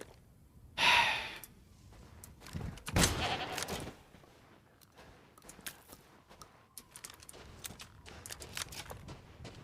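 Goats bleating in the video game Resident Evil Village, with a loud nasal bleat near the start and another burst around three seconds, followed by quieter clatter and game ambience.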